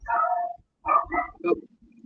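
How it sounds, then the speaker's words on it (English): A dog barks from somewhere at the back of the room, giving a quick run of short, close woofs, then a pause, another cluster of barks and a soft trailing whine. "my dog in the back."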